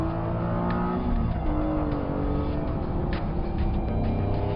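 A Bugatti Chiron driving and accelerating, its engine note rising and shifting in pitch from close inside, with a steady road roar underneath.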